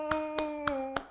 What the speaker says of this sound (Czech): Zatleskáme.